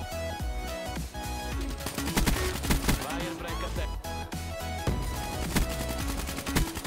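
Rapid automatic gunfire in the shooter game Call of Duty: Black Ops 3, dense bursts of shots layered with game music and effects, while someone talks excitedly over it.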